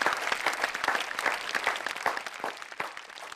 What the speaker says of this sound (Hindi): सर्वेश अस्थाना के लिए एक बार जरा जोरदार तालियां।